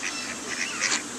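Several ducks quacking and honking outdoors, short nasal calls repeating close by over a steady background.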